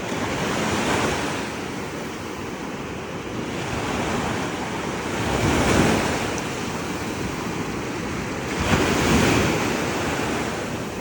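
Steady wash of morning sea waves breaking on a shore, surging and receding in slow swells, with wind buffeting the microphone and no voices.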